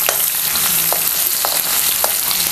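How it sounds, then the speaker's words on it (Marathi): Ginger and garlic frying in hot oil in a wok, a loud steady hiss of sizzle with light scraping taps from stirring at regular intervals, close up and without voices. "आलं लसूण घालूया आणि चांगलाच आपल्याला आलं लसूण परतून"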